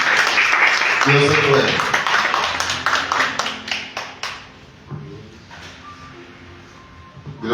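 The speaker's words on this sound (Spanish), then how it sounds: "Dale un aplauso a Dios." A church congregation bursts into applause during a Spanish-language service, loud clapping that fades into scattered claps over several seconds, with someone speaking over it.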